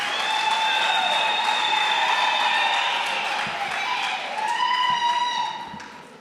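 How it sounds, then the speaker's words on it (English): An audience at a School Governing Body imbizo gives a steady round of applause, with sustained high vocal tones riding over the clapping before it tapers off at the end. "Let's give MEC a round of applause"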